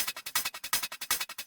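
A short pitched-up hypertrance sample pack loop, uncompressed, pulses in a fast, even rhythm of bright, hissy bursts, about a dozen hits in quick succession, faint and dry.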